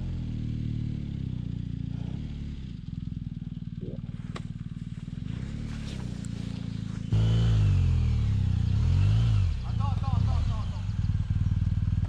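An off-road motorcycle on a trail spins its rear wheel in deep mud, the engine droning then revving harder and louder partway through, while people talk nearby.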